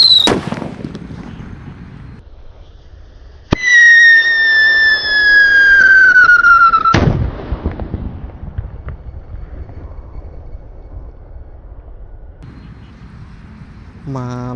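Mercon firecrackers set off outdoors: a sharp bang, then a loud blast launching a shrill descending whistle lasting about three seconds, ending in another crack, followed by crackling and scattered pops.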